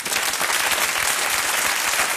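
Steady, dense audience applause from a German comedy crowd, many hands clapping at once with no break across the whole stretch.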